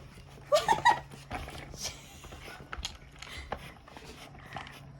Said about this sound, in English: she's already barking, waiting for her food.